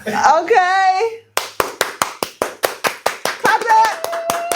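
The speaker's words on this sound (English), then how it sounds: "Clap it up. Clap it up. Clap it up. Clap it up." Hands clap in a steady, even rhythm about a dozen times, crisp and close, as a podcast intro beat; a voice is heard briefly before the claps begin and again faintly near the end.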